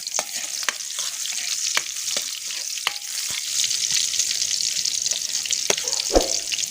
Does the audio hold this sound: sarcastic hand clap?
no